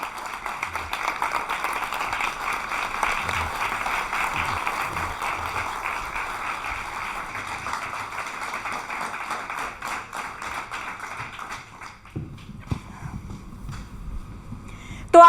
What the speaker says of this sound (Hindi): जोरदार तालियों के साथ बहुत बहुत स्वागत है आपका हमारे स्टूडियो में।